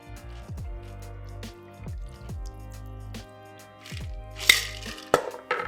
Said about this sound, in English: We're gonna be double straining since we're serving it up straight.